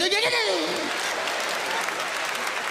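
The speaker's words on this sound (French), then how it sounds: "applaudissez pour le groupe Chérubin" A crowd applauds a dance group at a New Year's television show, with a voice calling out briefly at the start before steady, loud clapping takes over.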